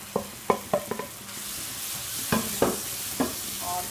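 Fried okra is stirred into sizzling ghee-rich onion masala in a pan, a soft frying hiss under a handful of sharp spoon scrapes and knocks, close and clear.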